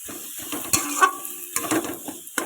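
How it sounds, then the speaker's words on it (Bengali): Boiled potatoes being mashed and broken up in a kadai over a low flame, a series of close, irregular scraping and clacking strokes with short gaps between them. "এবার আলুটা একদম পুরো ঘেটে এ করতে হবে হালকা জাল দিতে হবে"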